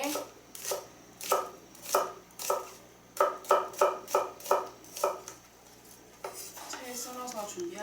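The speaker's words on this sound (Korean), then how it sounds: "그리고 양파는 이렇게 해서 약간 굵기 있게" A knife chops onion into thick strips on a cutting board, making a steady run of crisp, evenly spaced, close thuds that pause briefly and then resume before fading into softer handling noise.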